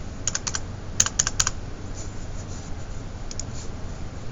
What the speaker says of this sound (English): Let's type that in and double check.